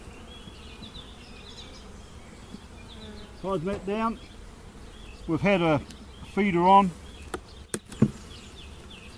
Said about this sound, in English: bees are still coming up in amongst here.